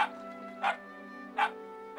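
Two sharp barks from a cartoon dog in an animated series, spaced well apart, each loud and close over a steady humming tonal music bed.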